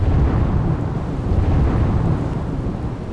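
Heavy monsoon downpour over the rural villages of Veraval, Gir Somnath, Gujarat, with loud steady rain and a deep continuous thunder rumble filling the whole stretch.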